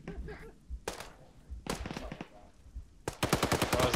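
Short and long bursts of machine gun fire in a military video game ring out in rapid rhythmic volleys separated by pauses, growing loudest in a final sustained burst, with faint talk in the background.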